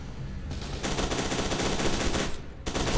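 Rapid automatic gunfire from the first-person shooter F.E.A.R. 2: Project Origin, a dense, loud burst of shots that runs almost unbroken for about two seconds, with game ambience before and after and no talk.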